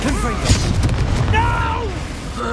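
A Confringo spell blast from the video game Hogwarts Legacy: a heavy, booming burst with a short sharp pop amid a noisy fight, while voices shout and call out over it.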